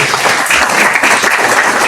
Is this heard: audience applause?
yes